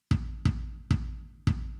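Four deep, punchy kick drum hits from a Roland TM-2 trigger module soul kit layered over an acoustic kick, evenly spaced and close, each with a short decaying tail.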